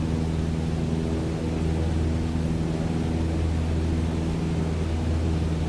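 Steady drone of a light single-engine airplane at cruise power, throttled back to 2,300 RPM in MS Flight Simulator 2020, with a constant harmonic propeller hum under broadband wind noise, loud and unbroken throughout.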